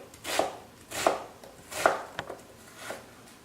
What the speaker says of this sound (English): And then if you go across the onion like this, and then this way